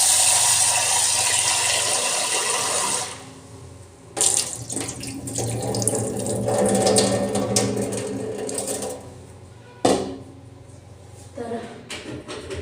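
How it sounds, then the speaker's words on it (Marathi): Tap water runs into a kitchen sink while rice is washed, giving a loud splashing stream that stops and restarts. Quieter handling and rinsing sounds fill the gaps, with some talk over it. "तांदूळ धुवून घेते."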